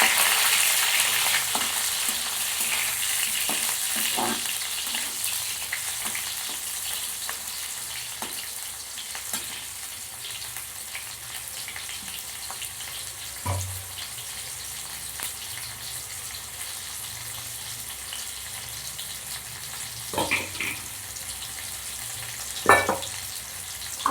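Tomatoes frying in oil in a home kitchen, a steady broadband sizzle running the whole time with a few sharp clinks of a utensil against the pan near the end, and no talking.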